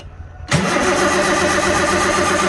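A tractor engine in snow cranks and catches after about half a second, then roars into a loud, steady running rumble close by, with no voices over it.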